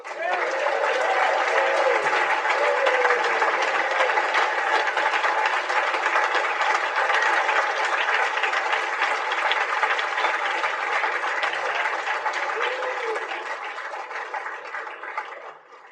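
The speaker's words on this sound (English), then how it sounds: "let's give Bill another round of applause" Sustained audience applause at a Saturday night main speaker session of a recovery convention, a dense steady wash of clapping that holds for most of the stretch and then tapers off near the end.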